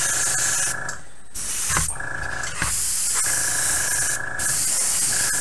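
An airbrush gun sprays cracked soil texture paint as a base coat on a tabletop diorama base, giving steady close hissing bursts broken by short pauses, roughly three long sprays with brief gaps between.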